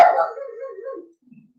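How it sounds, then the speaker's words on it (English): A small dog lets out a single short bark that trails into a brief whine, close and fairly loud, followed by near silence. "She's trying to be a guard dog, folks."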